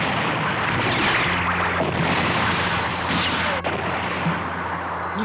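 Beam weapons fire in a Mobile Suit Gundam anime space battle, a roaring blast of whooshing energy with booming rumbles and a rising tone, dense and loud for several seconds.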